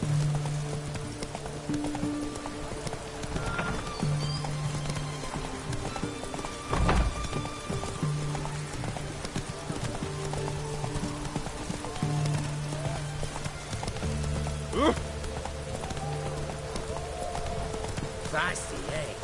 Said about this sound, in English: Oh! Whoa there, Roach.